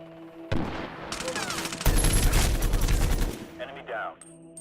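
Sustained machine gun bursts in the Medal of Honor Warfighter shooter, loud and rapid over several seconds with booming impacts, and someone talking over part of it.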